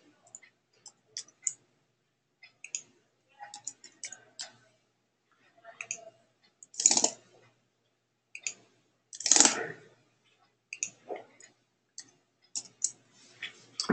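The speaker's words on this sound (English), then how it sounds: "click on the item" A computer mouse clicks in a sparse irregular series of soft, close ticks, with a few louder bursts in between and quiet stretches between the clicks.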